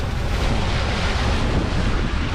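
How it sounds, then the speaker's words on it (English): Steady water and strong wind buffet the microphone along the east shoreline of Lake Como in Italy, a loud continuous wash with no voices. "It's a little loud as we're right by the water."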